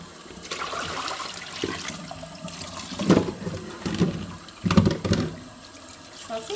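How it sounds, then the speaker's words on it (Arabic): Raw chicken is rinsed under running water in a kitchen sink, a steady trickle broken by louder splashing bursts as the pieces are handled, close and alone. "غادي نشللها مزيان"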